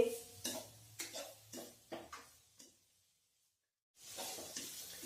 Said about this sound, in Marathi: आपल्याला हा गाजराचा किस मऊ होईपर्यंत परतून घ्यायचा आहे।